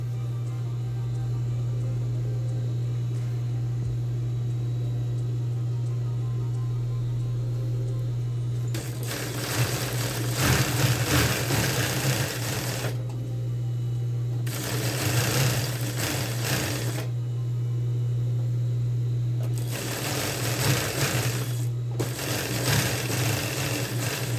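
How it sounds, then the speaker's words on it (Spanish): Sewing machine stitches the crotch seam of men's trousers in three bursts of rapid mechanical whirring over a constant low motor hum, with pauses between runs; no speech. "ahora voy a coser el entrepierna. Esta costura sí va a 1 centímetro"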